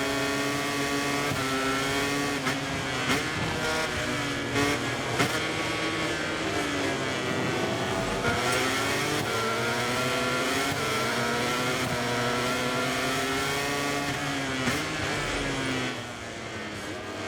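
Racing motorcycle engine from MotoGP 24, screaming steadily at high revs with rising and falling pitch through gear changes and braking, loud and continuous throughout with no talk.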